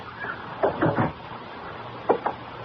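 Knocking on a door as a radio mystery drama sound effect: a quick group of three raps, a pause, then two more, fairly close and distinct.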